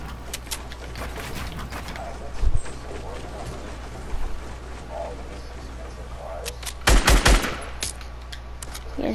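Gunfire in the Fortnite battle royale game, a few sharp shot bursts around the middle and a louder cluster near the end, over a constant low hum with a player talking in the background.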